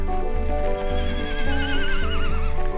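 A horse whinnies loudly and close by on a ride at Camp Narra in Sariaya, Quezon, its long quavering neigh lasting nearly three seconds with no talk over it.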